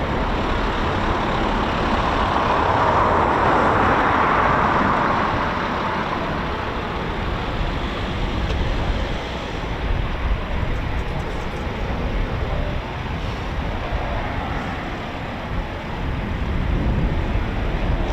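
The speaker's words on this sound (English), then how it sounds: "Lovely sounds from those Rolls-Royce EJ200 engines." Eurofighter Typhoon FGR4 jets with Rolls-Royce EJ200 engines at RAF Coningsby, a loud sustained roar that swells early on, then holds as a broad steady rumble.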